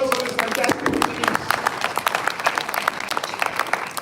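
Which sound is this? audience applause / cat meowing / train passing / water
audience applause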